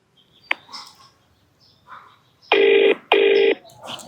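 A telephone rings twice, two loud electronic bursts about half a second apart, preceded by a few quieter clicks and faint rustling.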